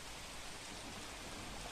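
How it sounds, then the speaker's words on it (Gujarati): Steady moderate monsoon rain falls on an early morning in Surat, a constant close hiss of drops on surfaces with no voices over it. "સુરતમાં વહેલી સવારે વરસાદ વરસ્યો."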